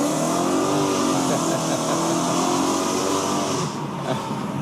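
Performance car accelerating hard nearby, engine revving loud and sustained with rising pitch, easing off slightly near the end.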